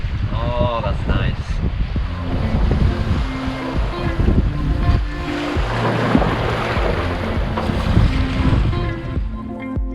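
A sailboat moves through ocean waves in steady wind, with water washing and rushing around the hull throughout. Wind buffets the microphone and people talk over the water sound.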